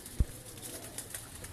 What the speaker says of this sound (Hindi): अब आपने अपने जो अच्छे ब्रीडर कबूतर हैं उनका कुछ शो करवाएं दोस्तों को